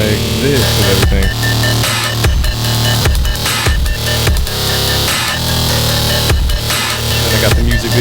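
Full beat built from sampled Craftsman tape measure sounds, looped with low-pass filtering and amp processing: steady loud rhythmic drums with deep bass and repeating percussive hits throughout, dense and continuous with no talking.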